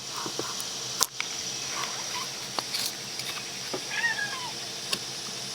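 A cat meows faintly a few times in a quiet room, with brief small clicks and scrapes nearby from wood carving with a knife.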